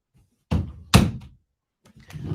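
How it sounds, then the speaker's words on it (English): A door being shut indoors gives two close thunks about half a second apart, the second one louder, followed by a quieter knocking or shuffling sound. "Let me close my door here."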